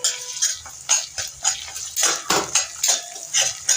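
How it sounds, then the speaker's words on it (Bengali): Utensil scraping and clinking in a pan as ginger, cumin and garlic pastes are stirred and fried, with a steady series of close, sharp scrapes and knocks repeating about every half second, no talk. "তাহলে সেটা একটু নেড়ে করে ভেজে নেব।"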